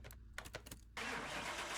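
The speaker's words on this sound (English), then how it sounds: "let's jump inside and get this V10 started and see what she sounds like" A swapped-in Viper V10 in a Mazda RX-4 cranks briefly, then catches and settles into a loud, steady, high-paced idle, heard in Car Mechanic Simulator 2021.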